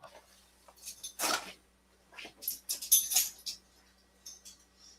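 A dog whimpers and yips in several short, faint bursts indoors, with brief pauses between the soft whines.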